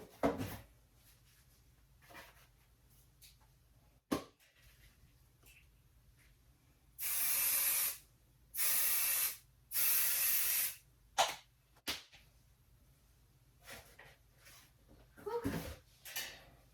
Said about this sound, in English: use this basting spray to spray the back side of this lining piece